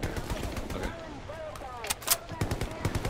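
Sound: gunfire in a shooter video game

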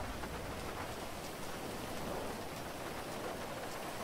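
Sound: rain in the video game GTA Online

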